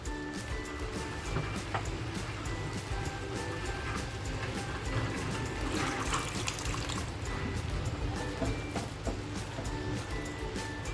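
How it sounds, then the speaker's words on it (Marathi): Water poured into a pan of paneer masala in a home kitchen, a steady close splashing and trickling that runs continuously without pause, no talking. "हे पाणी आहे ना मी त्याच्यामध्ये सगळं टाकणार आहे"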